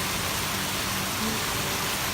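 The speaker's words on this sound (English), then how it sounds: "real bad rain coming through here for a few hours yet again." Heavy rain pours steadily outdoors on a farm where a flock of chickens is kept, a dense, even hiss of falling water that holds the same loud level throughout with no voices.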